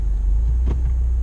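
A 2015 Subaru WRX on the move gives a steady low engine and road rumble heard from inside the cabin, with a brief faint bump midway through a short stretch.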